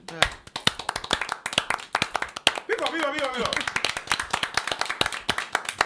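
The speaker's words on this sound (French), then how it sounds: "Je peux applaudir." A small group claps briskly and unevenly, sharp hand claps close by in a French Caribbean TV studio, while a voice calls out over the applause.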